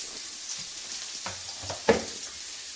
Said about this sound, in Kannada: ಈಗ ಅದು ಬ್ರೌನ್ ಆಗೋವರೆಗೂ ಒಂಚೂರು ಫ್ರೈ ಮಾಡಿಕೊಂಡು